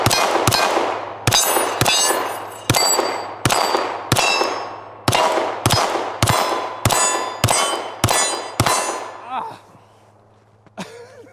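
Glock V pistol shots ring out on steel targets, about a dozen sharp metallic clangs fired in a steady, fairly quick rhythm, each hit leaving a bright ringing tail, followed by quieter, scattered pings at the end.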